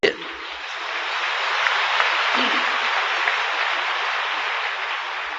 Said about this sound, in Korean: 이 박수 때문에 말을 잘 못하겠다